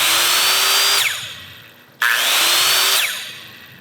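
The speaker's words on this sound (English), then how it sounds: "So first thing, very fast spinning saw. What I like about it is it has a brake, so it kills immediately when you let off the power." Corded fast-spinning deck saw whining at full speed, then its brake drops the pitch sharply to a stop; it restarts and brakes again, two loud run-and-stop cycles with no talk.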